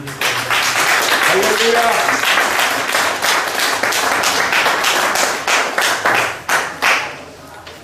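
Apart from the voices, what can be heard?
audience applause welcoming the speaker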